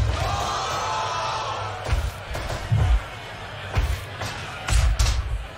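A wrestling arena crowd murmurs in the Fire Pro wrestling video game, a steady low hum cut by heavy thumps and slams from the ring at irregular intervals.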